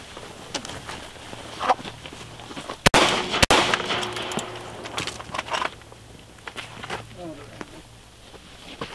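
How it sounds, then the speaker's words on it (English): Two sharp handgun shots crack close by as rounds are fired into a car door pillar outdoors, with muffled movement and faint talking around them. "In fact, I'm gonna put a couple rounds right here right now."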